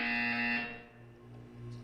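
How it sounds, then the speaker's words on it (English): In the video game Portal 2, a harsh electronic buzzer blares loudly for about half a second, then trails off into a faint low hum that pulses a few times. "You will hear a buzzer."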